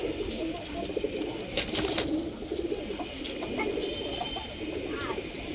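Silver pigeons in a cage give a steady stream of soft, rolling coos over a rustling background, with a few sharper flutters and movements close by.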